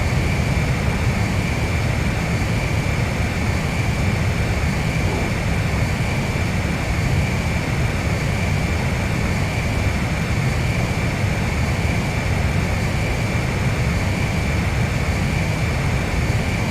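Jet aircraft in Ace Combat 5 during aerial refueling, a constant loud engine roar with a steady broadband rush and a faint high whine, unchanging throughout with no voices.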